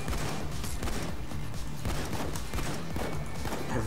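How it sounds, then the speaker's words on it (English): Gunfire in the video game Payday 2 crackles in a dense, continuous barrage of overlapping shots. It stays loud and busy throughout with no voices. "Everyone's standing and shooting."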